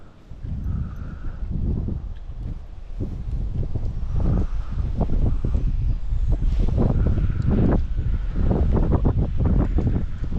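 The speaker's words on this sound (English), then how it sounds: "Oh, here's that darn wind again." Wind buffets an outdoor microphone in heavy low rumbling gusts, loud and close, swelling and easing across the whole stretch with no voice over it.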